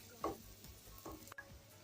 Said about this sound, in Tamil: சாதம் கொட்டி நல்லா கிளறி விட்டுக்கலாம்